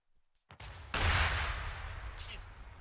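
A rocket blast in an Arma 3 battle arrives as one sudden heavy boom whose rumbling overpressure decays slowly over a couple of seconds, after a few faint thumps and quiet gaps.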